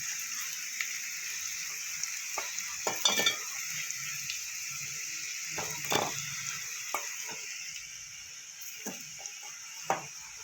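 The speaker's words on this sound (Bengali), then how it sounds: "আলুটা আমি একটু ভেজে নেব" Potatoes fry in oil in a kitchen pan, giving a steady faint hiss with occasional soft clicks and stirring taps. There is no talk.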